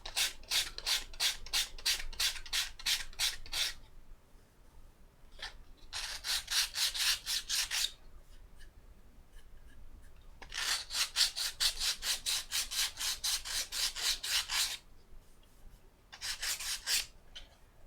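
Soft plywood being filed or sanded by hand in quick, even rasping strokes, repeated in several bursts with short pauses between, close and fairly quiet with no talking.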